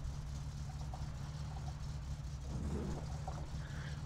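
A car engine in the video game My Summer Car runs with a steady, low, droning rumble that stays even throughout, with no speech over it.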